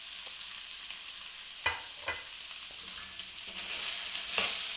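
Carrots frying in a pan for a chicken macaroni dish give a steady, bright sizzle throughout, broken by a few louder scrapes and stirs of a utensil, with no talking.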